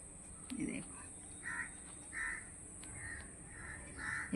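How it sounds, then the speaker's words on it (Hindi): Several crows caw repeatedly outdoors on a mild morning near trees, with harsh calls arriving in short bursts from a moderate distance over a steady high insect-like hiss and faint background noise. "ये कौआ बोल रहे हैं, देखो घूम रहे हैं"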